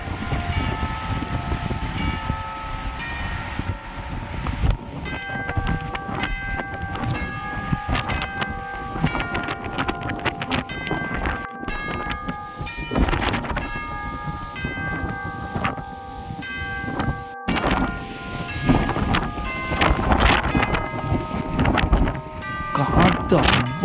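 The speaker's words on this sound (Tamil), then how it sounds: "காற்று அவ்வளோ வேகமாக அடிச்சிட்ருக்கு. அலைகளும் ரொம்ப சீற்றமாக இருக்கு பாருங்க." Strong wind and rough, churning sea waves at the rocky shore of St. Thomas Kurusu rock in Chinnavilai, a steady loud broadband roar running throughout with tonal background sounds and voices layered over it.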